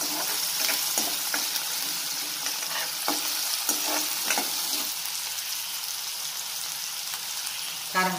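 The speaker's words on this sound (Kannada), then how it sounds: "ಉಳ್ಳಾಗಡ್ಡಿ ಹಾಕಿದ್ದೀನಿ ರೀ ಒಗ್ಗರಣೆ" Onions frying in hot tempering oil for a North Karnataka potato curry, with a steady close sizzle broken by repeated scraping stirs of a spoon against the pan.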